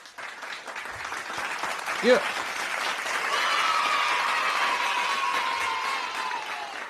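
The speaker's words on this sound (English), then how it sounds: "Where's my clapping sound effect?" Clapping applause sound effect played after a presentation ends: a steady, dense wash of many hands clapping, with a brief voice speaking near the start.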